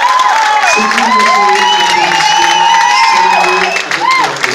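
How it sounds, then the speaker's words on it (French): Live audience at a French television show cheering and applauding after a performance, loud close crowd noise with whoops and clapping filling the whole short stretch. "Merci de vos applaudissements."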